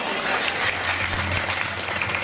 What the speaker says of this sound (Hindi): रेलगाड़ी तालियां बजाओ